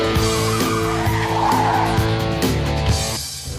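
Loud, sustained squeal of a 2006 Honda Accord Hybrid's tires skidding during an obstacle-avoidance test alongside a revving engine, fading slightly at the very end.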